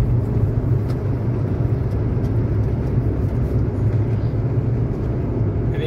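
Cars driving along a highway near Vijayawada, with a steady, loud whirring rumble of tyres and engines that stays constant throughout, without breaks.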